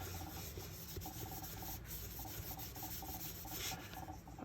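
Dorland's wax medium is rubbed steadily onto a watercolor bookmark, making a soft, continuous, close friction sound with faint repeated strokes and no talking.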